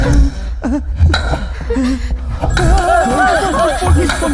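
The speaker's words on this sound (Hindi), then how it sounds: "फोन की घंटी" A telephone rings in bursts amid lively voices, gasps and laughter, with the ringing tones cutting through the chatter.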